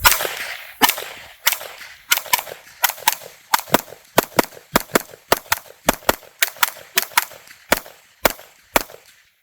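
A PSA Rock 5.7 pistol fires a full magazine at a shooting range, giving a long string of about twenty sharp, loud shots at a quick, slightly uneven pace, with no talking.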